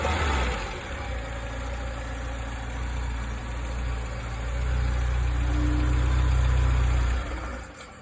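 BMW M10 engine fitted with Weber 45 DCOE carburetors running at a steady idle, close and even, with a low rumbling drone that swells slightly before cutting off near the end.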